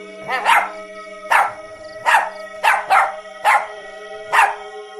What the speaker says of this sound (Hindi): उसकी मौजूदगी का एहसास कर लेता है और जोर जोर से भौंकने लगता है